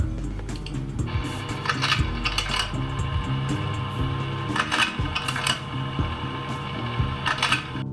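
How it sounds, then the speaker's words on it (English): A projector runs with a busy mechanical clatter: repeated clicks, ratcheting and metallic clunks in an uneven rhythm over a low whirring hum, close and fairly loud, with no speech. "I thought it was going to be a photocopier, but it's not a photocopier, it's a projector."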